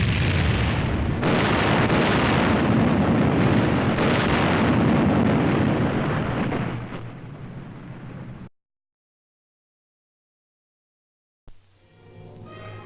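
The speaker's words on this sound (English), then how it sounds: "The cameraman also records new techniques in warfare, such as this napalm drop in a saturation firebombing test." A napalm drop during a saturation firebombing test erupts into a long, loud roaring blast that rumbles for several seconds, fades out into silence, then a fainter rumble returns near the end.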